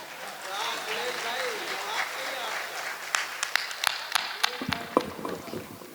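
Audience clapping at a Hindi poetry gathering (kavi sammelan) in Rath, Hamirpur: a steady wash of applause, then sparse, sharper individual claps toward the end, with voices murmuring underneath.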